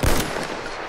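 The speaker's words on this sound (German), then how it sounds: "Oh, ist irgendwo ein Schuss." A single sharp gunshot with a punchy low thump, followed by a short echoing tail in a Battlefield 1 multiplayer game soundscape.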